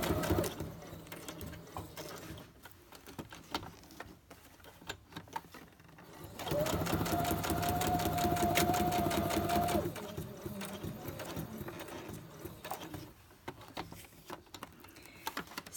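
A sewing machine runs straight stitches through paper in several bursts, including a sustained fast mechanical whirring run of a few seconds, separated by quieter stretches of handling noise.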